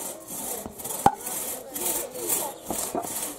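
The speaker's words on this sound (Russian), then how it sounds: "Давай, пилу прикладывай." A hand saw cuts through wood in slow, steady back-and-forth strokes, close and moderately loud, with a sharp knock partway through.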